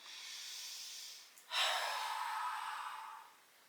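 During yoga, one breath is drawn in softly, then after a brief pause a long, close, airy exhale follows and slowly fades.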